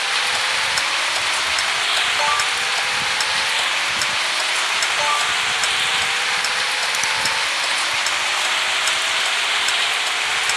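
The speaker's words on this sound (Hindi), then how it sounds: "बारिश हो रही है" Steady hiss of rain pours throughout in the driving game Dr. Driving, with a faint car engine humming underneath and occasional rising tones.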